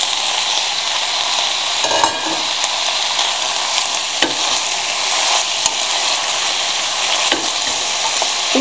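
Chopped field tomatoes sizzle and fry in hot olive oil, a steady crackling hiss with occasional clicks from stirring, close up and without talk.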